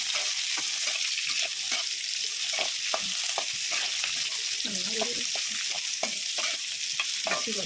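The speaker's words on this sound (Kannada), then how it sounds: "ಹಸಿ ವಾಸನೆ ಹೋಗೋವರೆಗೂ ಹುರಿಬೇಕಾಗ್ತದೆ." Garlic, tamarind and coconut for radish chutney fry in a pan, a steady sizzle running throughout with frequent scraping stirs of a spatula close up.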